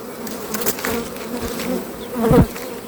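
Honey bees buzz loudly and close around a hive, a dense continuous drone with individual insects swooping past, one passing especially near.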